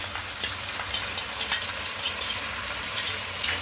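Kadai chicken with cashews, green chillies and beaten yogurt sizzles steadily in a hot kadai as it is stirred, a dense, continuous frying hiss with soft scraping strokes, close and fairly loud, no voices.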